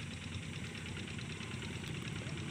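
Steady, throbbing rumble of a CC203 diesel locomotive engine at Haurpugur station, with a low knocking pulse, constant and moderately distant, no voices.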